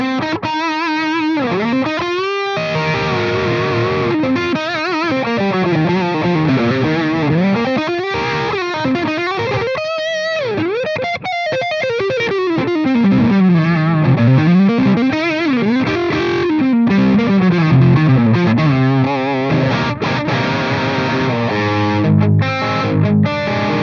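Victory Amplifiers Kraken pedal on its gain 1 channel, playing a continuous, loud, heavily distorted electric guitar riff with sliding notes and sustained chords for the full stretch, with no talking.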